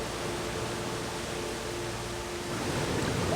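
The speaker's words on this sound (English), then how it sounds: "you can still see the ocean beyond, hear the waves, hear the wind in the trees" Steady broadband rush of ocean surf with wind through trees in North Bali, a constant wash that swells slightly louder near the end, with no talk.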